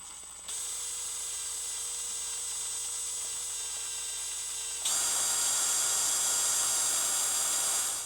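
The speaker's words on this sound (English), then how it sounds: "we will try and drill holes" A small high-pitched drill whines steadily, then rises to a louder, harsher pitch partway through as it bites into a plastic Hornby Class 66 model locomotive, running continuously.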